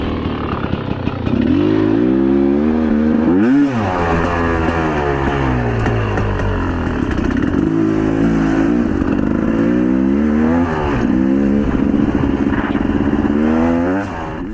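A Rieju Ranger motorcycle engine idles and revs loudly and close at the end of a ride on the Tin Cup Springs single-track trail, its pitch rising and falling in several throttle blips over a steady running drone.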